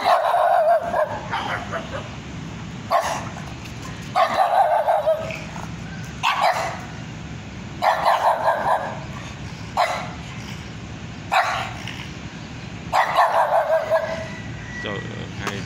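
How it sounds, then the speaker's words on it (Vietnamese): Two dogs guarding a house in rural southern Vietnam bark repeatedly in loud bursts of woofs and yips, with short pauses between volleys, while people talk nearby. "hai chó nó giữ nhà"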